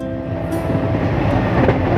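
The Haldibari Superfast Express pulls out of Kolkata station, a steady rumble with rail clatter and a few brief squeaks, heard from on board, loud and continuous.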